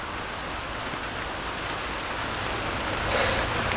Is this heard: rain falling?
yes